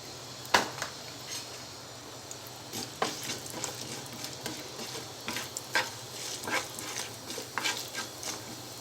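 Mustard seeds, cumin and chana dal frying in hot oil in a pan, a quiet bed of sizzle punctuated by sharp popping crackles and stirring clinks close at hand, with no talk.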